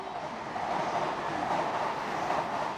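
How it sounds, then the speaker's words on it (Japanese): A Shonan-Shinjuku Line rapid train for Takasaki at Musashi-Kosugi Station gives off a steady, dense rumble and roar that holds even and fairly loud throughout, with no voices. "こちらは7時45分発湘南新宿ライン快速の高崎行きです。"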